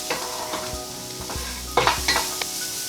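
Spiced onions, garlic and peppers frying in oil for moussaka, a close steady sizzle with a few quick scrapes and knocks of a spoon stirring the pan.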